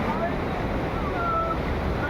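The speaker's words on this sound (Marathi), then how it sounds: "आता इथं मोठा ओढा येतो क्रॉस करायला आपल्याला." A large forest stream on a trek toward a waterfall near Satara, a loud continuous broadband rush of flowing water with wind buffeting, steady throughout.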